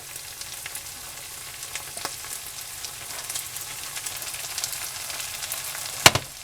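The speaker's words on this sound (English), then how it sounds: "I'm going to add some beef broth" Beef broth poured over beef in a dish sets off a faint, steady sizzle and soft crackle, with a sharp clink near the end.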